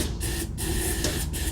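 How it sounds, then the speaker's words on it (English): Quick start starting fluid sprayed from an aerosol can into a lawn mower carburetor with the cover removed, a loud, close, continuous hiss broken into a few short bursts. "Alright, I'll spray some quick start"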